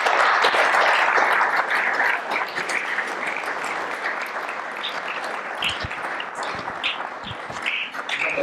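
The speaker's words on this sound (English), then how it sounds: "I just say big round of applause for the panel." A conference audience applauds a panel at a medical professionals' event, with dense, sustained clapping that fills the room and tapers slightly toward the end.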